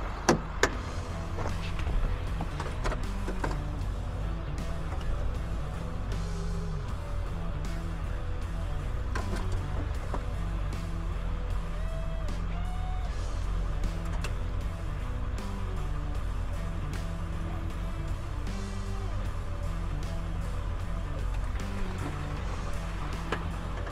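A tow truck pulling forward while hauling a broken-down tractor, a steady low engine drone with mechanical rattles and a few sharp clanks near the start, heard close and continuous with no talking.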